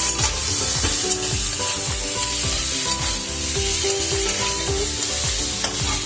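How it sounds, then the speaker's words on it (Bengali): Sugar is stirred into a taro-stem and prawn curry in a pan, giving a loud continuous sizzle with rhythmic scraping strokes of a ladle repeating throughout and no talking. "এর মধ্যে চিনিটা দিয়ে দিচ্ছি দিয়ে আবার একটু নাড়বো"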